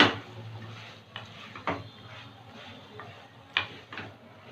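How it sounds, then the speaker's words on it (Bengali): Chicken pieces being stirred in a pan for chicken pasta, with a few sharp metallic scrapes and taps of the utensil against the pan over a faint background sizzle, close and fairly quiet. "চিকেনটা দিয়ে দিচ্ছি একটু নেড়ে চেড়ে নেব"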